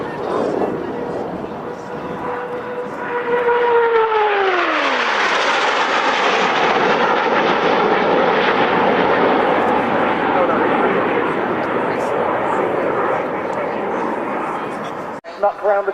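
Display team aircraft flying past and breaking out to land at an airshow, a loud jet-like roar with a falling engine pitch as it passes close, then a steady broad rush fading slowly, with a commentator talking over it.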